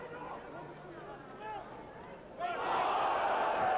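Rugby league crowd at a Hull KR versus Featherstone match roaring together, a broad swelling shout that rises sharply midway and holds loud, with general crowd noise before it.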